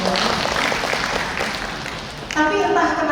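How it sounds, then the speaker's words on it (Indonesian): An audience at an Islamic talk on child education claps for a while, a moderate spread of applause under and around a speaking voice, then a voice takes over clearly near the end. "Tepuk tangan dulu dong"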